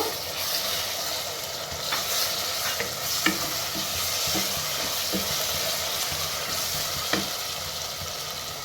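Whole garam masala spices such as bay leaf, cinnamon, cloves and cardamom frying with beef masala, a constant sizzle under a few sharp scrapes and taps of a spatula as the mixture is stirred, close and steady.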